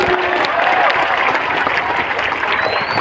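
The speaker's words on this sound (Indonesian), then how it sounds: "Tepuk tangan dulu." Audience applause at an Islamic religious lecture, a dense, steady wash of many hands clapping throughout, loud and close with faint voices mixed in.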